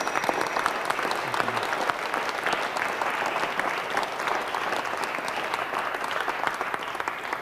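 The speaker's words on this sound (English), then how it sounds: "A big round of applause for our..." A crowd at a Liberating Structures session gives sustained, even applause, many hands clapping steadily for several seconds with no talk over it.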